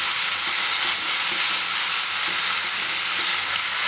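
Steady, close sizzling and frying of a fenugreek and chili curry as yogurt is added and stirred in, with soft scraping stir sounds repeating under the continuous hiss and no talking.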